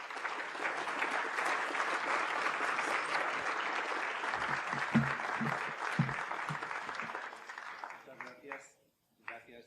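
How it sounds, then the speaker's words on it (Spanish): A cordial round of applause rises for Maestro Javier Blasco at the International Cervantes Colloquium, as a full hall claps steadily for several seconds before thinning out and fading away near the end. "demos un cordial aplauso al maestro Blasco"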